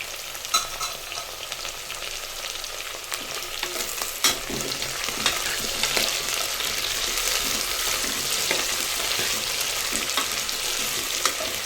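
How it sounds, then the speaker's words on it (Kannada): Tomatoes fry in a pan while cooking vangibath, sizzling and crackling steadily and close by with occasional stirring scrapes. No one speaks. "ಟೊಮೊಟೊ ಮೆತ್ತಗಾಗೋ ತನಕ ಫ್ರೈನ ಮಾಡ್ಕೊಳ್ಳೋಣ"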